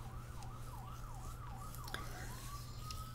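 An ambulance siren wails outside, its rising and falling tone cycling steadily before shifting into a long steady note, faint and distant over a low constant hum.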